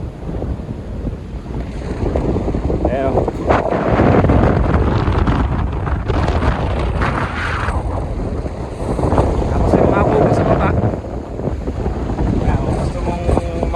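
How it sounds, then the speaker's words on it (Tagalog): Strong, steady wind buffets the microphone with loud low rumbling gusts near Ipo Dam, swelling and easing over the whole stretch, with faint voices in the background. "Taas ng hangin. Presko."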